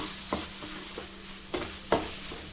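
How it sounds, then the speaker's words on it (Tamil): Ginger and garlic sautéing in a pan, a soft low sizzle broken by a few scattered stirring scrapes and taps, quiet and without talk. "இப்போ நம்ம இதை வதக்கிக்கலாம் கொஞ்சம் அந்த இஞ்சி பூண்டு பச்சை வாசனை போகிற வரைக்கும் வதக்கினா போதும்"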